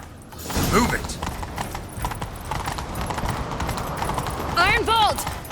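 In The Witcher 3, horses gallop with rhythmic clip-clop hoofbeats running throughout, while whinnies and neighs rise near the start and again near the end and voices talk over the hooves.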